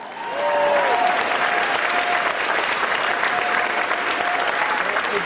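Sustained audience applause at a book awards talk, dense and steady clapping from a large crowd filling the whole stretch, with a faint whistle-like tone above it.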